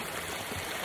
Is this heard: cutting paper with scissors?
no